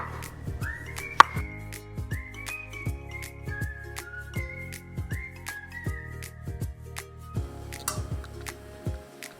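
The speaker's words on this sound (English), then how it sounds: "Start by chopping cilantro, white onion and tomatoes." Cilantro, white onion and tomatoes being chopped on a cutting board give steady, evenly spaced knife taps close by, with faint whistling in the background and no talk.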